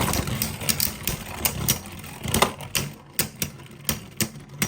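Beyblade spinning tops, including a Vex Lucius, battle in a stadium. The clip holds a fast, busy stream of rattling clicks and scraping impacts over a constant whirring hum, close and fairly loud, with no speech.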